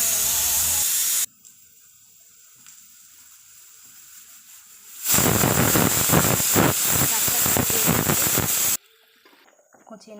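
Broad, steady hiss of something coming to the boil on a stove while cooking vegetarian ghugni, loud and continuous for a few seconds between quieter stretches.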